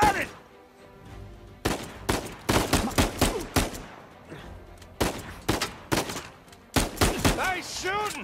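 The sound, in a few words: gunfire in video game Uncharted 4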